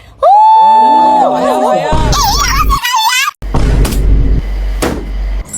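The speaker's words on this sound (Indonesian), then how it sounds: "Sorakin rame-rame." A group of voices jeering and hooting together in a loud, teasing chorus, with overlapping wavering whoops and moans followed by rough, noisy bursts of shouting.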